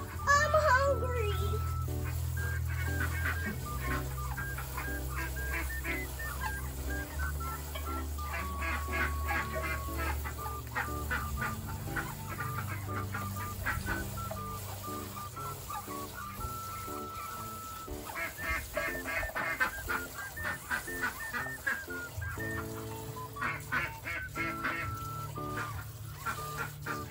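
Hungry domestic ducks quack and honk continuously as a noisy flock before feeding, the calls overlapping in a steady, loud chorus throughout.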